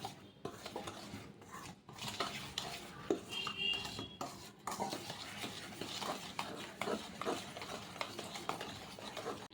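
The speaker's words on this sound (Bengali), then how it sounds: "দুধ অ্যাড করব আর মিক্স করব" Cake batter for a homemade Dora cake being mixed as milk is added, with a steady rhythm of utensil scraping and clinking against a bowl, close and moderately loud, with no talking.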